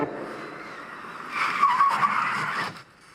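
A car brakes hard to avoid a crash, its tires skidding and squealing in a loud burst of about a second and a half that rises over faint road noise and then cuts off.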